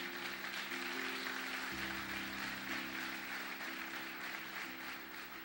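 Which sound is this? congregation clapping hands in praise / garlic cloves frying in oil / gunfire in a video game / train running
congregation clapping hands in praise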